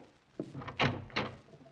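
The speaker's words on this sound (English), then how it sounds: "I walked to the door." A door opens in a 1948 old-time radio drama, a close sequence of creaks, clicks and thunks over a quiet background, with no talking.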